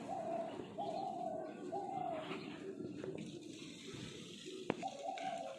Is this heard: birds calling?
yes